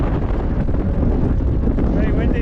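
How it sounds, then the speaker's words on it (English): Strong wind buffeting the microphone in a loud, continuous rumble during a bumpy ride in the Philippines, with faint voices underneath. "Very windy now."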